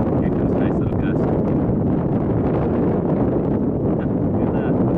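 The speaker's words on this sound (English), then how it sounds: "Here comes a nice little gust." A wind gust blows around a vertical-axis wind turbine outdoors, a loud, steady broadband roar with heavy microphone buffeting throughout, no distinct pauses.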